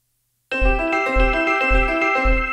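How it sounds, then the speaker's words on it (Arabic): An Atmosphere synth plays back a Scaler 2 performance: a sustained, bright chordal pad with a steady pulsing low bass beat repeating four times, with no talking. "اللعب بتاع السكيلر اتسجل في الاتموسفير اهو"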